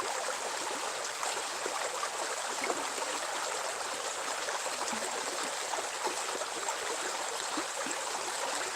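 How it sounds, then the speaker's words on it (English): A creek flows as a gurgling brook at night, a steady, dense rush of water with small bubbling splashes, close and continuous with no voices. "Really weird sounds from this gurgling brook right here, this creek."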